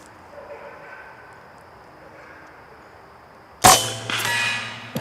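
A .25 caliber PCP air rifle shot strikes a small block on a barrel outdoors, one sudden sharp crack with a brief rattling tail above a low steady background hum.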